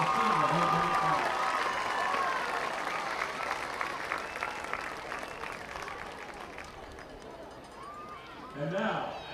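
Applause from a stadium crowd at a high school homecoming football game honoring the fall class attendants and senior homecoming class, a broad sustained clapping wash that slowly fades, with a public address voice and crowd noise layered over it.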